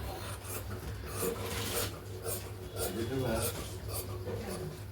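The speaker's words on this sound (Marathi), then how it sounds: "आणि हा पुढच्या भागाचा मुंडा कट करून घ्यायचा" Scissors cut through cloth for a blouse sleeve, making repeated rasping strokes in an even rhythm. A voice talks over the cutting.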